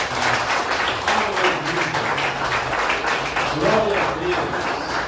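A church congregation claps in applause during a sermon, moderate continuous clapping with voices talking and calling out over it throughout.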